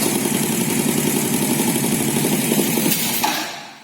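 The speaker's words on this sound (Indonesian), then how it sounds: "Kita tambah putaran mesin," An engine raised to higher revs during a charging system test gives a steady, close mechanical drone with a pulsing texture that holds level and then fades away at the end.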